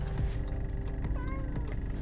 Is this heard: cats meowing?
yes